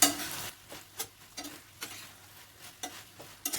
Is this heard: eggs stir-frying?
yes